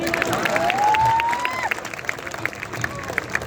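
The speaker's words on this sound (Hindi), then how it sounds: "तालियां बजाइए" Applause from the audience at an outdoor comic poetry gathering on the Assi Ghat in Varanasi, brief and moderately loud with scattered claps and a rising whistle-like tone early on.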